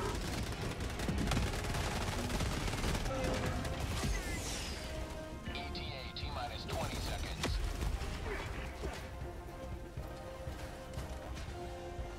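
Rapid automatic gunfire from a Gatling gun in the video game Helldivers 2, loud and sustained across the whole stretch with crashes and mechanical clatter mixed in, under a dense battle din.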